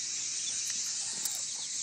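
A battered chicken gives a few faint clucks, low and distant under a steady background hiss.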